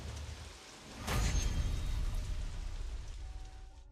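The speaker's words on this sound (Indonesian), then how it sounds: "Astaga, tiba-tiba saja hujan." Rain suddenly begins, a broad hiss of drops on the ground that swells in and keeps falling steadily, with a few faint tonal sounds in the background.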